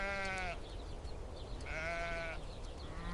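Sheep bleat twice on a rancher's pasture, each drawn-out, wavering call standing clearly above a steady background hiss, with a short pause between them.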